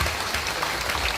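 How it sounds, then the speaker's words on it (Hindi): Steady clapping from a seated crowd of seniors at a political gathering, an even dense patter with no break, fairly loud and without voices over it. "आप लोग थोड़ा सा ताली मार दीजिए।"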